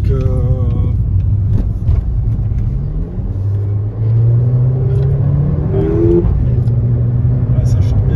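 A Mercedes A45 AMG with 381 hp revs as it drives, a loud steady engine drone with rising and falling pitch sweeps close to the cabin, while people talk over it.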